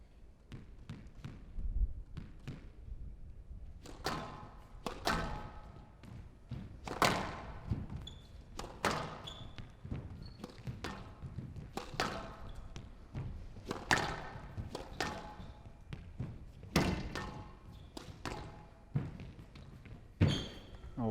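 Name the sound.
squash ball shots during a rally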